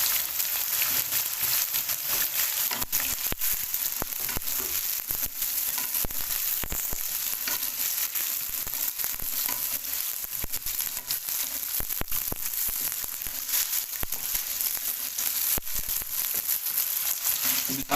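Meat sizzles steadily in a pot with cloves, a bay leaf and ground spices, a continuous close frying hiss broken by occasional scraping stirs; no one speaks.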